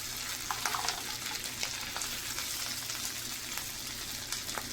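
A lamb steak sizzles and fries steadily in a pan over slow heat, a constant close crackle with scattered sharper pops and spits throughout.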